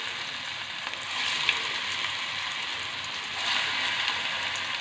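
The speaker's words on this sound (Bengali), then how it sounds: "এখন আমি পেঁয়াজু ভাজবো।" Onion fritters (piyaju) fry in hot oil with a steady, moderately loud bubbling sizzle that swells slightly in places, heard alone without any talk.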